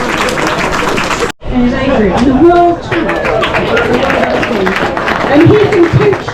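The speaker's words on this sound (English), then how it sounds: "So a round of applause for Tony." A parkrun crowd outdoors applauding Tony for his 173rd event, with steady clapping and chatter running throughout beneath someone speaking.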